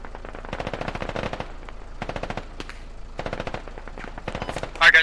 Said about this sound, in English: That bridge is taking so much fire right now.